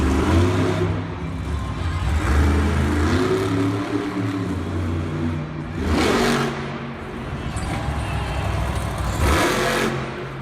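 Monster truck engines roar and rev at a Monster Jam arena show in Raleigh, a loud sustained growl with repeated surges of throttle and crowd-filled stadium noise throughout.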